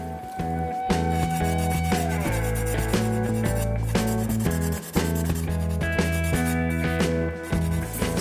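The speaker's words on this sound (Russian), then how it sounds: "И вышкуриваем 240 наждачкой." Hand sanding with 240-grit sandpaper over finishing filler on a carbon-fibre laminated Audi Q7 mirror cover makes repeated close rubbing strokes under steady tonal background sound.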